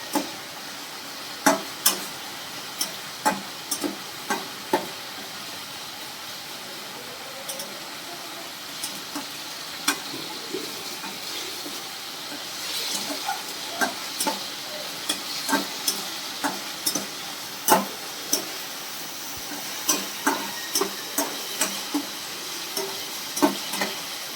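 Spice paste for doi katla, a Bengali fish curry, frying and being stirred in a pan: a steady soft sizzle with repeated sharp scraping and clinking strokes of a spoon, close and without talk.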